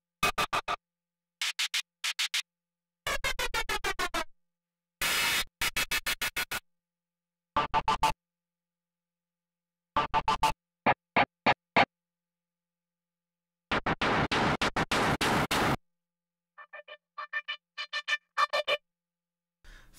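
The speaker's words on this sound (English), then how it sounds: "Next is what I'm calling a broken patch" Broken synthesizer patch sounding alone as a run of separate electronic bursts, some buzzy and noisy, others pitched and chirping, stopping and starting with silent gaps between them.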